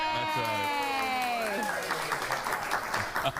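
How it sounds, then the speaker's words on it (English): An audience applauds on a television talk show, dense clapping swelling up under a voice that slides and trails off before the applause carries on alone. "They're just clapping because I'm still alive."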